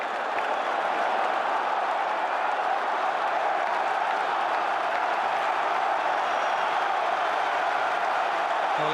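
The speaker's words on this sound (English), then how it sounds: "The crowd cheering his name." A large cricket crowd at Lord's roars and applauds without a break during a tense England v Australia one-day final, a dense, even wash of cheering and clapping that holds steady throughout.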